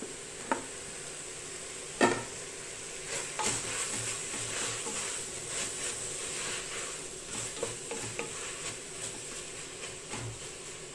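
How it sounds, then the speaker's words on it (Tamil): Mutton and tomatoes sautéing in a pan for curry, a quiet continuous sizzle with scattered clicks and scrapes of stirring, a couple of sharper knocks early on, and no voices. "இப்போ இந்த தக்காளி நல்லா வதங்கட்டும்."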